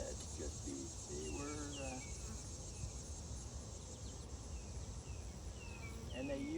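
Honeybees drone steadily at an open backyard beehive during a hive inspection, a continuous close buzzing with occasional bird chirps over it and no speech.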